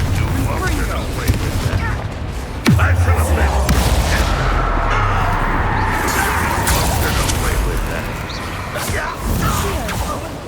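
A Confringo blasting spell explodes during the final fight in Hogwarts Legacy: a heavy, deep boom hits early, then rumbling, crackling battle noise carries on beneath voices speaking.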